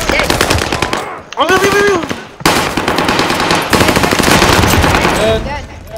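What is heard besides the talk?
gunfire from video game Warzone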